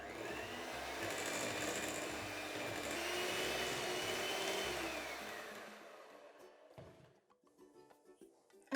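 An electric hand mixer beats icing sugar into a cake frosting, a steady loud motor whir lasting about six seconds before cutting off, followed by quieter bowl clatter.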